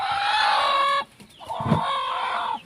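A brooding hen clucks and squawks close by, a loud run of calls broken by a brief pause before resuming.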